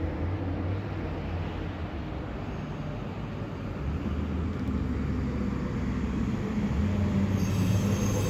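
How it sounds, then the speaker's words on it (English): A train on the Blue Mountains Line rumbles steadily near Mount Victoria Station with a constant metallic squeal from its wheels, loud and close, with no talking. "the train down below is the one that I just got off"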